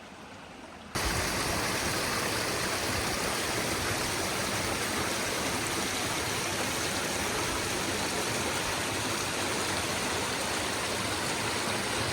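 Steady, loud rush of stream water flowing at a river crossing near Moab, Utah in winter, a constant close roar that cuts in after a brief quieter start and continues unbroken with no voices.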